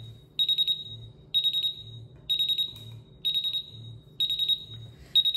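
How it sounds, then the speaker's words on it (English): A SENKO MGT multi gas detector alarm set off by applied calibration gas beeps in rapid piercing bursts of about four pulses, repeating roughly every second, loud and close, with a low buzzing vibration between. "By applying some gas on the unit, you would see relatively quick alarms"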